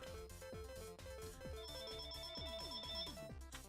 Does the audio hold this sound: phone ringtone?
yes